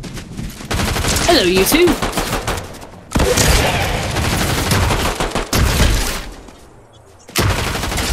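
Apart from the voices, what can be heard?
shotgun fire in the video game Fortnite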